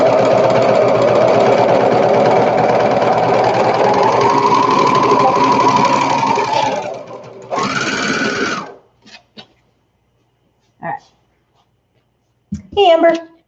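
A serger sewing machine stitches the short crotch seam of baby bummies with a loud, fast, steady whirring drone that slows and stops, followed by a brief second burst and a voice afterward.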